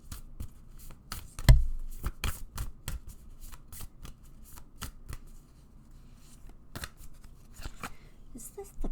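Hidden Worlds oracle cards being shuffled by hand, a series of quick crisp riffles and slaps in irregular bursts, with a voice speaking now and then.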